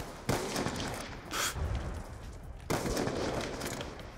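Gunfire in Black Ops 2 on Xbox 360, with two sharp broadband bursts, one near the start and one just before the end, each trailing into a sustained noisy wash and separated by a brief lull.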